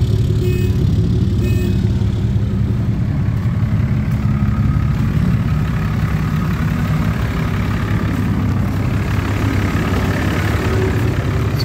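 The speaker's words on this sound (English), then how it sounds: "Let's get out here where we can actually hear them start their engines." Ice racing car engines idling together on a frozen lake, a steady, loud, continuous low rumble that holds level throughout with no voices.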